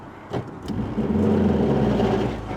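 An NA Mazda Miata fitted with a GearMotive ZF dogbox idles with the clutch out, a steady low engine hum holding even after a couple of brief knocks at the start, close by, with no talk.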